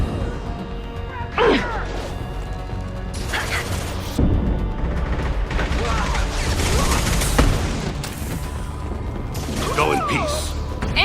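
Gunfire in a Mass Effect 2 firefight: bursts of weapon fire and impacts crack across a busy battle mix, recurring throughout under shouted voices and music-like tones.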